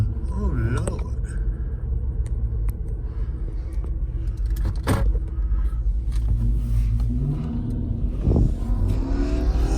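A Nissan Murano drives past with a rumbling engine that rises into a brief rev, heard close and steady under excited voices talking over it throughout.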